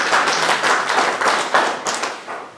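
A small group claps for a few seconds, the individual hand claps distinct and fairly close.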